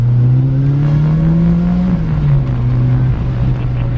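Ford Escort RS Turbo engine in an RS1600i pulling hard on boost, a loud continuous close-up drone that climbs in pitch for about two seconds, dips briefly, then keeps pulling with a rough, strained edge and no talk.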